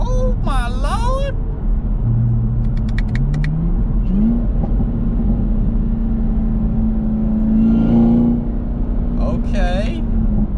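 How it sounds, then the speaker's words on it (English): Supercharger whine and intake noise from a new Chevrolet Camaro ZL1 fitted with a cold air intake: a rising and falling whine heard from inside the car over engine rumble, with brief voice sounds mixed in. "Supercharger whine now."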